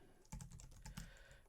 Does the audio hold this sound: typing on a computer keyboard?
yes